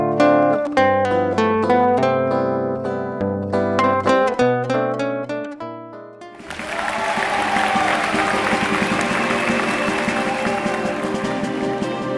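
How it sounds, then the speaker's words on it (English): After a stretch of piano music, an audience at a jazz gala breaks into loud, sustained applause with some crowd noise, continuing steadily to the end. "Ladies and gentlemen, please give a big round of applause"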